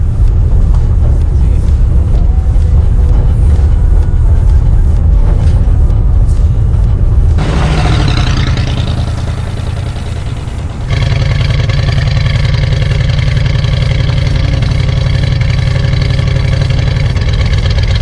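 A classic 1962 Chevrolet C10 pickup with a 350 V8 engine on the road, its loud, continuous engine drone close up, with a brief shift in tone partway through and a steady hum afterward, no voices.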